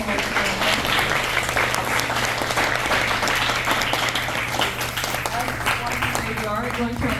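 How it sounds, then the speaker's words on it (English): An audience at an India Day college workshop gives a loud, continuous round of applause for the speakers, many hands clapping densely throughout, with faint voices mixed in. "please give a big round of applause to our speakers"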